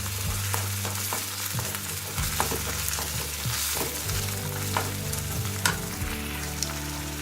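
Paneer and Maggi noodles sizzle steadily in a hot pan while a utensil stirs them, scraping and tapping at irregular intervals over the constant frying hiss.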